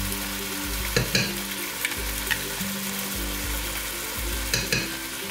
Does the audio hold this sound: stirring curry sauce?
yes